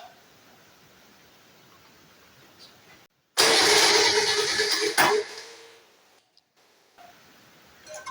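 A home-built 4x4's engine, freshly mounted on its chassis, cranks and catches for its first start, a loud burst that runs about two seconds, then sputters and cuts out into near silence.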